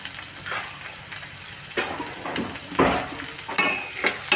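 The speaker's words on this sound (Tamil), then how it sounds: "சுண்டவத்தல் மட்டும் நல்லா பொரிஞ்சிடணும்." Dried turkey berries (sundakkai vathal) frying in hot oil, a steady close sizzle with crackling bursts and occasional stirring scrapes, no voices.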